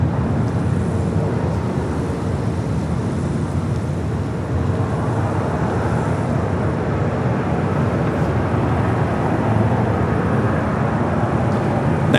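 A United Airlines jet departs Los Angeles International Airport, its steady broadband engine roar holding loud and unbroken throughout, with wind buffeting the microphone and no voices heard.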